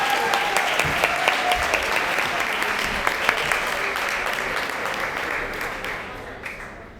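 Audience applauding at a vocational school graduation ceremony, a sustained wash of clapping from a large crowd with a few louder claps standing out, tapering off slightly at the end.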